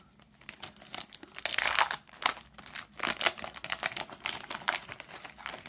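Plastic packaging from a Pokémon Poké Power box crinkles and tears up close in irregular, crackling bursts as it is opened, with short quiet gaps and no talking.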